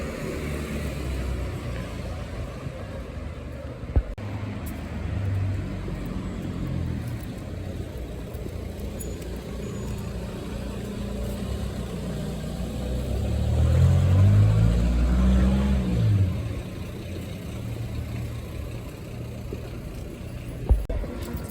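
Traffic rolls along Avenida de Valencia in Zaragoza, Spain, a street with a bus lane, two one-way traffic lanes and a bike lane; a steady engine drone swells as a vehicle passes midway, with faint voices.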